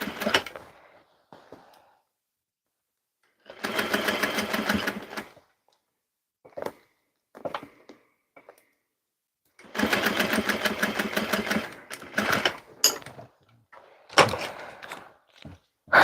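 A home sewing machine stitches the crotch seam of a muslin garment in two long, close, whirring runs, with short taps, handling clicks and pauses between them.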